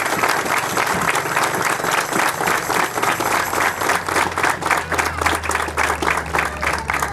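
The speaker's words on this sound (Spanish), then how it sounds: "Por todas esas personas de buena voluntad, también démosle un fuerte aplauso." Audience applause at a residential fair, a dense, steady patter of many hands clapping throughout, with a low hum underneath and no speech.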